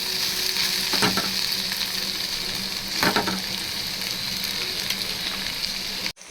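Okra poriyal sizzles steadily in a pan over a slow flame, a continuous close frying hiss with a couple of scraping stir strokes, ending with a brief dropout.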